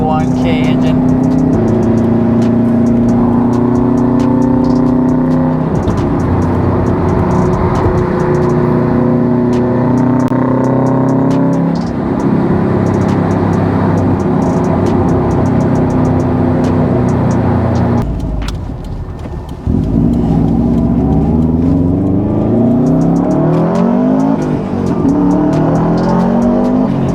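A Subaru STI with a 141,000-mile engine revs hard and accelerates through rising gear pulls, loud and close, with a brief drop in power near the end before it pulls again.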